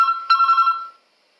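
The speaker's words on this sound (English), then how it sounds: "Now the phone is ringing." A telephone rings with a bright electronic ringtone: a short warbling burst, a brief gap, then a second longer burst of pulsing tones that fades out after about a second, leaving silence.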